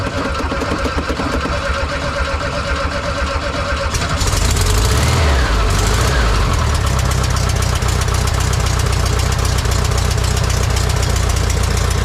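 A carbureted bus engine cranks with a rhythmic churning for about four seconds, catches, and settles into a loud, steady, rumbling idle that continues to the end.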